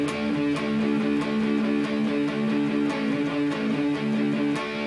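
A loud, distorted electric guitar plays a rhythmic repeating part, with sharp picked accents over ringing low notes, steady throughout and up close.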